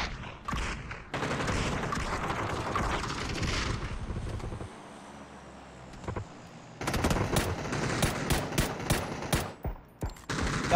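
Automatic gunfire from a PUBG ranked match comes in dense bursts with a pause partway through, then returns as sharp, loud separate shots toward the end.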